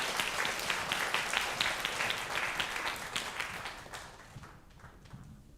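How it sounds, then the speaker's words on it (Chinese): A church congregation claps through a Sunday worship service for a group of elderly members, dense steady applause that thins and fades out toward the end. "我们给他们鼓掌一下"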